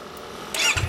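A 2017 Yamaha YZF-R25 fitted with a Yoshimura exhaust rumbles briefly at close range, its engine note swelling louder in the second half of the short burst.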